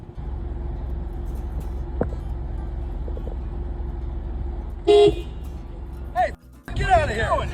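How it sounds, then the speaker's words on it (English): A car horn blares in short bursts from a vehicle passing near a golf course, sounding over a low road rumble, with shouting voices breaking in between the honks. "Honking during strangers' golf swings."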